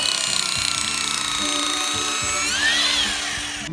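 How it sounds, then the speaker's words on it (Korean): A loud hammer drill bores holes while a vinyl greenhouse is being built, a sustained buzzing whine that rises in pitch near the end before cutting off. "해머 드릴로 먼저 구멍을 뚫고요"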